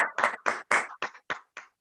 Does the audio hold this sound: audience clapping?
yes